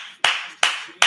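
Three sharp, single hand claps from football coach Jason Garrett during a game broadcast, evenly spaced and loud against a quiet background.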